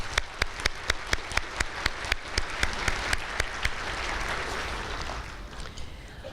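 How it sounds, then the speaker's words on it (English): A few crisp, evenly spaced claps open a Concord University commencement ceremony, then a large audience joins and the claps swell into a broad wash of applause that fills the hall. "I'd like to give you a hand of applause."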